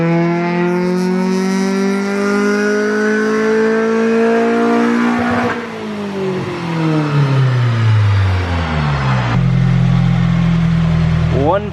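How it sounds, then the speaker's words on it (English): A small Honda Civic revs hard on a dyno in a Colorado tuning shop, its engine note climbing in long sweeping pulls, dropping and rising again, loud and close, with a little voice underneath. "on the dyno right now with a little Civic"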